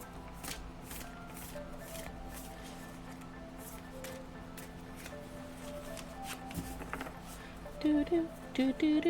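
Tarot cards shuffled by hand in a series of soft riffling and sliding bursts, close and fairly quiet, with a few brief vocal sounds near the end.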